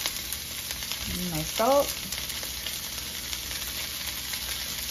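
Food sautéing in a pan after seasoning with salt and pepper, a steady, close sizzling hiss that continues beneath a brief spoken remark.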